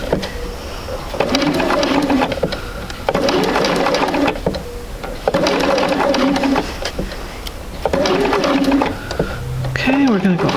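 A sewing machine stitches quilt pieces in several rapid bursts separated by short pauses, close and loud, with a voice talking briefly at the end.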